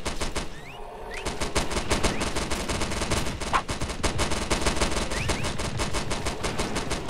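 Sustained automatic gunfire in the Primal Fears co-op shooter video game, a dense rapid stream of shots that runs almost without a break, loud and close, with no talk over it.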